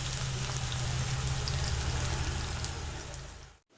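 Green chillies, dried chillies and curry leaves fry in hot oil with garlic, making a steady, close crackling sizzle that runs evenly and then cuts off abruptly near the end.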